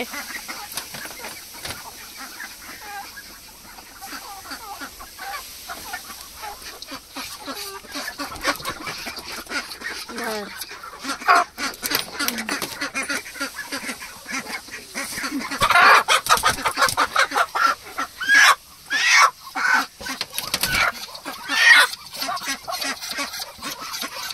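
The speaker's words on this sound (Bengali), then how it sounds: "দেখি মুরগি বের হয়ে গেছে।" A chicken out in the open clucks repeatedly nearby, in irregular bursts that grow busier and louder toward the end.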